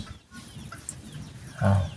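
A chicken clucks nearby in a rural home setting, a few soft low clucks followed by one louder, fuller cluck near the end, with faint background noise and no talk.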